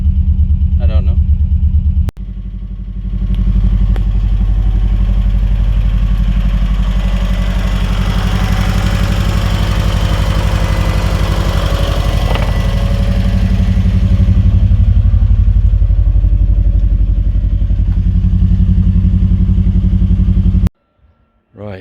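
A 1995 JDM Subaru WRX engine, just restarted after its fuel pump was refitted, runs steadily for about eighteen seconds with a loud, deep rumbling idle, starting abruptly and cutting off near the end.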